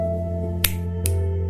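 Two crisp finger snaps close by, about half a second apart, over a low steady hum.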